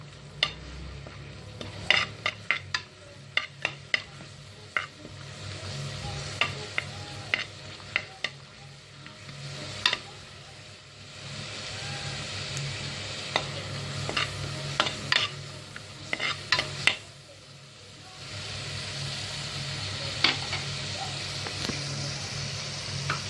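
Mutton for a Kerala-style stew fries in a pan under a loud, continuous sizzle, while a spoon clicks and scrapes against the metal in irregular bursts throughout.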